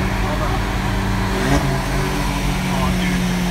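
Tuned Volkswagen GTI engine running close by with a steady low rumble and a slight rise in revs, heard from a nearby car at a light and mixed with road and cabin noise.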